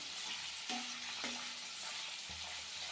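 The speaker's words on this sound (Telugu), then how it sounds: "మనకి నూనెలో వేగుతున్నాయి ఈ లివర్ ముక్కలు" Chicken liver pieces fry in oil with a steady, fairly quiet crackling sizzle throughout, broken by a few brief stirring scrapes; no one speaks.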